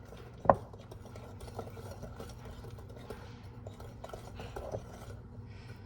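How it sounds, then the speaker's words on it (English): A spoon stirs Cinnabon muffin batter in a bowl while undissolved sugar pieces grind in it, making a soft repetitive scraping and rubbing close by with one sharp knock near the start and no talking. "So you just have to mix counterclockwise the other way."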